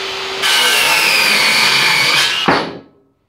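A Bosch CCS180 18V cordless circular saw cuts wood blocking on a jobsite with a loud, steady high whine, then the electric brake stops it abruptly, leaving a short dying ring and then silence.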